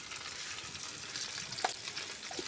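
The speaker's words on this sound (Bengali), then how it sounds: "আমি ভালো করে ভেন্ডিগুলো ভেজে নেব" Okra sizzles steadily in a hot pan, a soft continuous hiss of frying with a faint clink or stir partway through, close and quiet with no talking.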